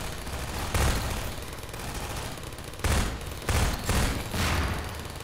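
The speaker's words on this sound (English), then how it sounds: "It's a submachine gun." Submachine gun fire in Half-Life 2, loud close bursts of automatic shots in several separate volleys over a steady background, with no talking.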